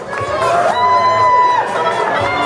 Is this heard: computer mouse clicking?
no